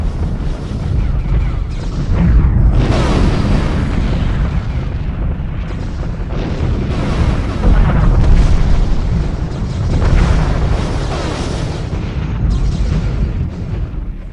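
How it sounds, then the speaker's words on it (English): Plasma weapons fire and explosions in a Stargate-themed Homeworld 2 space battle, a loud, dense barrage of booms and bursts rolling continuously with swelling peaks and no speech. "There's plasma fire everywhere."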